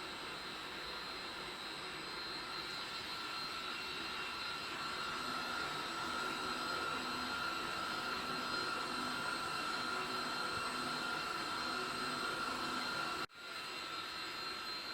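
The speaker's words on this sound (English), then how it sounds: "We can watch it processing the cut." A turret-style sheet-metal machine runs a slicing cut, giving a loud, steady whining drone with a sustained tonal hum that holds unbroken, then dips abruptly for an instant near the end. No one speaks.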